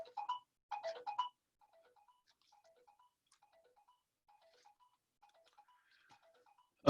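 A phone rings in a classroom, its short, repeated electronic melody coming through faintly and evenly for several seconds after a few louder bursts at the start.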